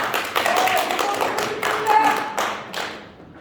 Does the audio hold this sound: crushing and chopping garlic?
no